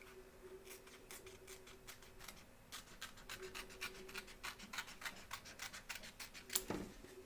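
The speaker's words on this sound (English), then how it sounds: "I'm going to trim off some of this excess fabric." Scissors snip away excess fabric from the back of a hooped Statue of Liberty appliqué, a quiet, close series of regular crisp cuts with soft fabric rustle, ending in a slightly louder snip.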